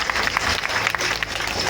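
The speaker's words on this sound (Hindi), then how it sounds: "उन सब के लिए एक बार मेरे दिल से जोरदार तालियां बजाते हैं" Loud, dense applause from a crowd honouring village heads at a Gurjar community procession celebrating the birth anniversary of Lord Devnarayan's horse in Jhonkar Nagar, steady and close throughout.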